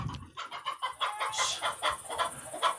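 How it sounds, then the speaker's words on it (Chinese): Rooster on a rural farm clucking in a rapid, rhythmic run of sharp, loud calls, close and continuous without talk. "刚刚你们看到那个是大公鸡"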